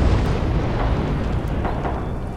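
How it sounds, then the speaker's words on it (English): A continuous heavy rumbling roar of bomb explosions in the WW2 video game Rising Storm/Red Orchestra 2, loud and dense throughout without distinct separate blasts. "Oh no, they sending bombs"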